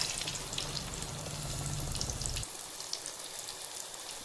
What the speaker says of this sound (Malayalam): ഓരോ ഭാഗമായി പതുക്കെ തിരിച്ചിട്ട് കൊടുത്ത് പൊരിച്ചെടുക്കാം